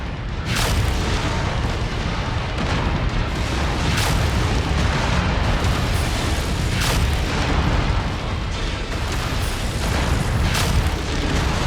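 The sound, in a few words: mech exploding after going critical in video game MechWarrior 5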